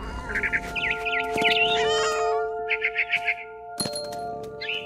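A cartoonish cat meows several times in short, warbling bursts over a steady electronic musical drone, with a brief chirpy bird-like cry near the end, in the video game What Remains of Edith Finch.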